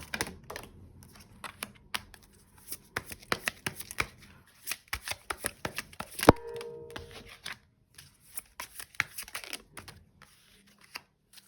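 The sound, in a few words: shuffling and drawing a tarot card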